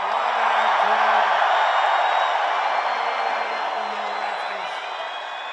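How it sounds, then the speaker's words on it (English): A large rally crowd inside Fiserv Forum in Milwaukee roars with sustained cheering and whooping, a dense wash of noise that slowly eases, with a voice faintly beneath it. "Wow, what a crowd this one is, huh?"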